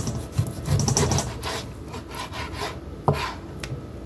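A wobbly kitchen knife saws back and forth through raw pork chops on a board, making close, rasping strokes and a sharp tap, with no talking.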